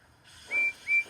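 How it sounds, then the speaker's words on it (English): A cartoon steam engine whistles loudly twice, two short bright blasts in quick succession after a quiet start. "Percy whistled loudly."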